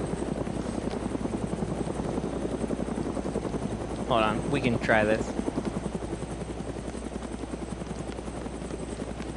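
A video game helicopter drones with a loud, steady rotor chop from start to finish while someone talks briefly over it midway.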